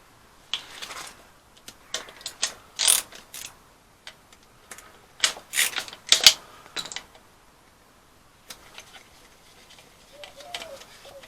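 A ratchet works bolts loose on an Astra H 1.6 engine during a gearbox fitting, producing close bursts of rapid clicking separated by pauses and light metallic handling.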